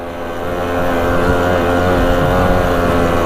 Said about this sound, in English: Not many bikes you can ride right through the snow like this.